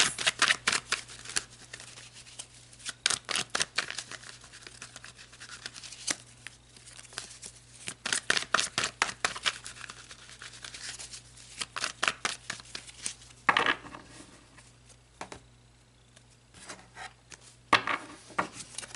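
Tarot cards being shuffled and pulled during a past-lives reading, with long bursts of rapid riffling and ruffling alternating with softer sliding and handling noises, close and moderately quiet, with no talking.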